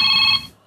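A mobile phone ringtone sounds briefly and loudly, a bright electronic tone that cuts off after a moment and fades to quiet.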